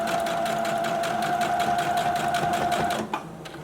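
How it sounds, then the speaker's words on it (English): A sewing machine runs steadily, stitching a seam with a back stitch at 2.5 stitch length on fabric for a foldover clutch, a loud close continuous buzz that stops abruptly near the end. "Begin sewing, back stitch, continue sewing"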